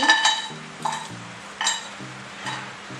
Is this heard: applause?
no